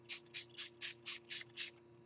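A hand-pump sprayer bottle fires ink in seven quick, even bursts of hissing mist, each a sharp puff with a short gap after it, close and fairly quiet over a low background hum.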